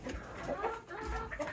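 Close, rapid clucking from a rooster held in the hands, a few short throaty notes in quick succession with soft background noise.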